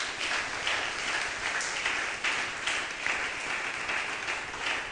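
A church congregation applauding during a Sunday service, steady dense clapping that carries on evenly for several seconds, loud and close with no talk over it.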